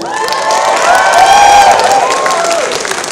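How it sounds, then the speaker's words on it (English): Audience at a convention opening ceremony applauds and cheers, a steady wash of clapping with whoops and shouts from a large crowd, fairly loud and sustained throughout. "Please give a rousing round of applause to Pepper Coyote and Fox Amore."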